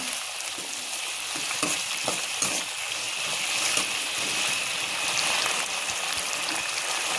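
Curry leaves fry in oil for carrot rice, making a dense, steady sizzle with scattered pops and occasional stirring clicks, fairly loud and close, with no talking.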